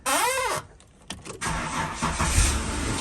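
A Holden VT 3.8 litre V6 with a freshly tapped starter motor whirs briefly, pauses, then catches and fires up, settling into a loud, steady rumbling idle close by.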